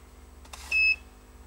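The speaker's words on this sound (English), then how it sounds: "this beep, it means that soldering is 350" A single short electronic beep from an AOYUE 2900 lead-free soldering station, signalling it has reached 350, rings out clearly after a couple of soft clicks, against a quiet background hum.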